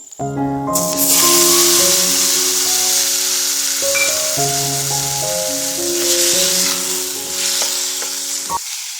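Finely chopped tomatoes hit hot oil in a pan and set off a loud, steady sizzle of frying that lasts throughout, while music plays over it.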